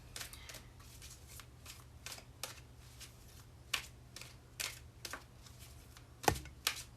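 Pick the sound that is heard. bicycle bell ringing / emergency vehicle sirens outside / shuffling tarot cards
shuffling tarot cards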